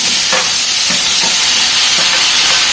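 Tomatoes frying in a pan for tomato chutney, a loud steady sizzle and hiss with a few soft stirring scrapes scattered through it, close up and without speech.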